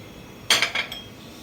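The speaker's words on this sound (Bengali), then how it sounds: "এটা প্রথমে আমি একটু চামচ দিয়ে মিশিয়ে দিচ্ছি" A spoon clinking against a bowl a few times while mixing gram flour and cornflour batter, short bright taps close by, then quiet.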